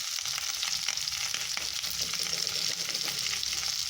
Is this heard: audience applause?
no